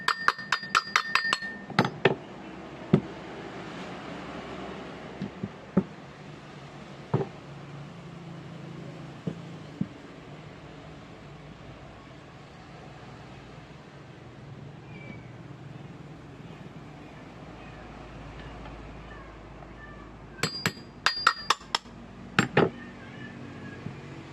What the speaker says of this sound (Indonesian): Kita ketok lagi menggunakan palu pelan.